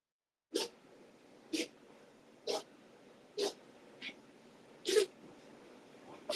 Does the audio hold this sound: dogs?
yes